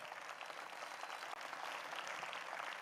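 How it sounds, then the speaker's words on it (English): Audience applause at the Horizon Gala 2021, a steady, fairly faint wash of many hands clapping continuously with no talk. "Lastly, to the Horizon team, give clear applause"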